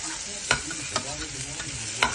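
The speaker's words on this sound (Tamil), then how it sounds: "இப்போ நல்லா கிளறி விட்டுக்கலாம்." Kothu parotta being stirred and chopped in a hot pan, with sharp metal scrapes and clanks at irregular moments over a steady close sizzle of frying.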